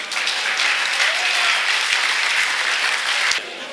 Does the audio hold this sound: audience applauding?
yes